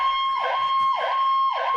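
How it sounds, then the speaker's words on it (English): A Mercedes E63 wagon's siren, just switched on, wails loudly and close by in a repeating rising-and-falling sweep, about three cycles over steady tones, with no talk. "So the sirens work too."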